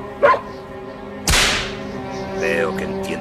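A single sharp whip crack snaps loudly in a Spanish-language children's film about White Fang, followed by a dog's faint whining yelps.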